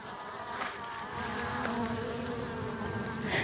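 Honeybees feeding on sugar syrup from a floating platform on water buzz continuously at close range, a dense steady hum with individual insects passing.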